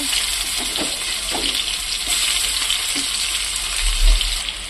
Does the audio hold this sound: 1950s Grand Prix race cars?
no